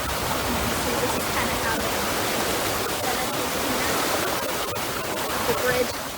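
Flash flood water rushes through the creek in Arcadia Park, Fort Worth, Texas, a loud, continuous broadband roar that stays steady throughout, with a voice briefly audible over it.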